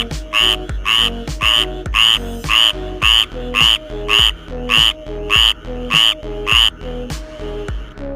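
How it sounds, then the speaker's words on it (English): A tree frog calls in a steady series of about a dozen loud, sharp, rasping croaks with short pauses between them, close and alone with nothing else audible. "Top 4 tree frog."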